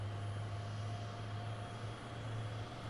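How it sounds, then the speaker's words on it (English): Steady engine drone from the left engine of an F-22 Raptor spooling up in a flight simulator game, a constant whine over a low hum that holds level and fairly loud for the full three seconds, with no talk. "engine is spooling in the left side"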